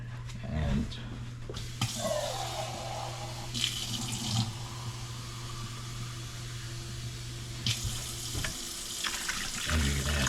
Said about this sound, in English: we're going to add 2 cans of water.